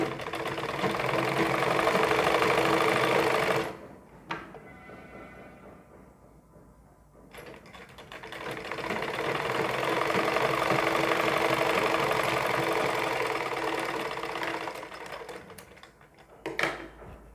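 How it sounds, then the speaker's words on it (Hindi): Sewing machine stitching the sleeve of a ladies suit, running in two bursts of rapid mechanical whirring separated by a short pause, close and fairly quiet. "अब हम इस पर सिलाई चलाएंगे।"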